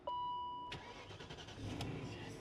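A BMW X5 with a newly replaced alternator cranks and fires, a sharp start followed by a steady mid-pitched idle, preceded by a faint electronic tone, with no voices.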